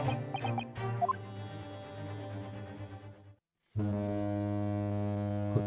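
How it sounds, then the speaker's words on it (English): A steamship horn from The Great Ace Attorney Chronicles video game sounds two long, steady, deep blasts separated by a brief gap, loud and alone. "Honk."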